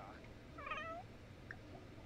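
A cat meows in The Sims 4 video game, a short wavering call rising then falling, moderately loud over a low steady background hum.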